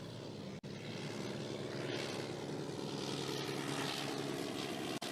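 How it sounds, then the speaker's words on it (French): Steady drone of an early propeller aircraft engine and airscrew from Henry Farman's 1908 flight at Reims, a continuous faint hum with no voices. "à écouter le moteur dont les ratés m'inquiétaient de temps en temps, à entendre le ronflement de l'hélice"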